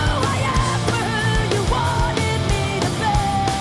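A thick metal scream from a song rings out over loud, dense distorted guitars and pounding drums, the yelled vocal running continuously through the heavy mix.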